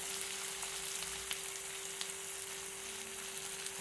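Onions or vegetables sautéing in a pan for idli upma, a faint steady sizzle with scattered soft crackles and a constant low hum underneath.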